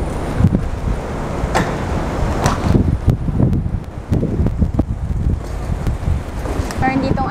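Strong wind gusting outdoors, buffeting the microphone with a heavy, continuous low roar and rustle, with a voice speaking over it.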